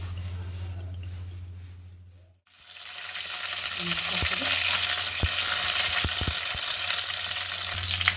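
Cauliflower, radish and potato pieces drop into hot oil left from frying small puti fish, setting off a steady loud sizzle that swells after a brief pause, with a few sharp stirring clicks on top.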